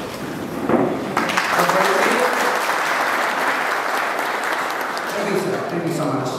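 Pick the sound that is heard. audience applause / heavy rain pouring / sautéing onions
audience applause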